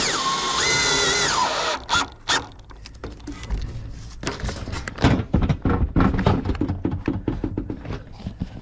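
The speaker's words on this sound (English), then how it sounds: "When you're putting those screws in, just snug them up a little bit." A power drill drives screws into a raised garden bed outdoors. A long whining run gives way to clattering thunks and choppy bursts of drilling at close range, with no talking.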